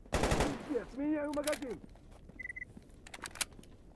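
Shots from the player's gun in the survival shooter GAMMA, a loud close report at the start, then someone talking, followed by a few fainter scattered pops and metallic clicks.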